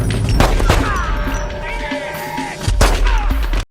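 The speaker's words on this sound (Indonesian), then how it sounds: "Baku tembak pun terjadi." Loud, rapid gunfire bursts from a movie shootout between a bodyguard and corrupt police, sharp cracks and booms stacked close together over a dense, roaring action soundtrack.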